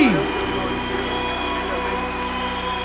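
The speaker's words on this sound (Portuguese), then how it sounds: "Aplauda essa certeza. Pode ser mais forte." A church congregation applauds, a dense wash of clapping filling the room steadily at moderate loudness, with music and voices underneath.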